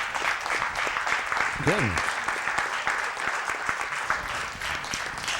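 An audience at a live-streamed religious lesson claps for several seconds, a dense, steady patter of many hands, with a voice briefly exclaiming over it.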